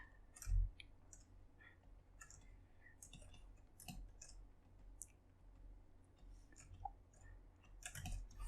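A computer mouse double-clicks while someone unwraps a 3D model of a vest holster. The clicks are faint and brief against a low room hum, with soft scattered taps around them.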